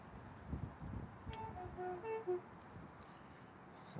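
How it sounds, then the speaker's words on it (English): Faint railway train horns sound far off in a couple of short sustained tones, low in level beneath steady wind and outdoor background noise. "keep hearing trains honking when they're down there, right down in the distance."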